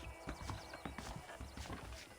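Horse hooves clip-clop at a steady walking rhythm in the open-world western game Red Dead Redemption, close and clear, with a brief neigh mixed in and no talking.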